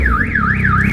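A car alarm sounds close and loud, with a rapidly rising and falling electronic siren tone and nothing else in the background.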